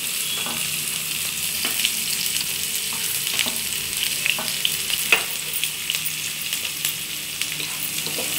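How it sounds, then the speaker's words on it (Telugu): Chopped onions and green chillies sizzle and fry in hot oil, a steady close crackle with occasional stirring scrapes and pops throughout, no voices. "నూనె కాగిన దాంట్లో మనం ముందుగా తరిగి పెట్టుకున్న ఉల్లిగడ్డలు, పచ్చిమిర్చి అండి కనిపిస్తున్నాయా, పచ్చిమిర్చిని వేసుకోవాలి మనం ఇలా"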